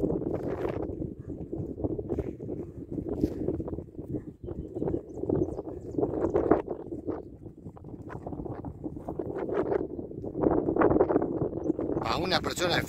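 Hooves of a big, calm overo gateado horse clop along at a walking pace under continuous talk and gusty wind noise on the microphone.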